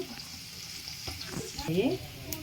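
Onions and green chillies frying in oil in a home kitchen pan make a steady close sizzle, with a brief louder crackle and stir partway through and a faint voice in the background.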